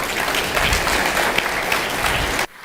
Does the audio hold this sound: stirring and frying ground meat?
no